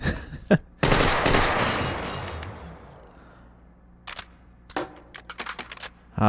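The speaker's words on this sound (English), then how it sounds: "Full automatic fire, those floaters are much less of a problem." A Steyr AUG rifle firing full auto in the VR game H3VR, with a loud burst of rapid shots that rings out and decays, followed by several short, sharp bursts and clicks near the end.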